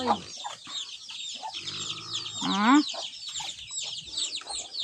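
Chickens and ducks cluck and call in a rural farmyard pen, a steady mix of close, overlapping clucks with some sharper squawks and a higher rising call, alongside scattered background bird chatter.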